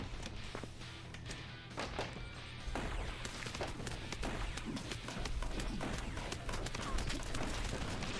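Cannon fire in the video game Earn to Die Rogue booms repeatedly in quick succession, heavy blasts and crashing impacts layered into a dense, continuous barrage.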